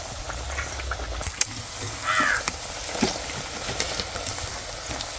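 Rajgira (amaranth) puris deep-frying in oil, a soft steady sizzle and crackle with small pops and bubbling, heard close and fairly quiet.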